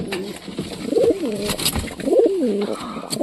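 Pigeons in a nest box coo loudly and close by, two rising-and-falling rolling calls about a second apart, with some rustling and no talking.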